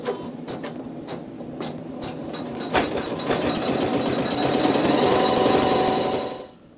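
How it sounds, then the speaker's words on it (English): An embroidery machine stitches a satin cover stitch with a single thread in the needle, its needle chattering faster and faster into a rapid, even buzz before abruptly stopping; close, steady, no voices. "Step 22 is thread D in the needle only, and it's going to sew a satin cover stitch"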